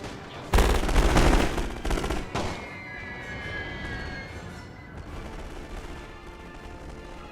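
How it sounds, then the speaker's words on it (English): Submachine gun fire in forest fighting in The Great War 6.0: a loud, dense burst of automatic gunfire for about two seconds, then scattered distant shots and rumbling battle noise in the background. "it's a submachine gun unit hiding there in the forest"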